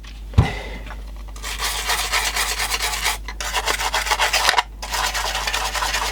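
A Toshiba BC-0802 calculator keypad, with the case apart, gets a steady, close scrubbing: a continuous dry rasping rub that pauses briefly twice before carrying on, with no talk.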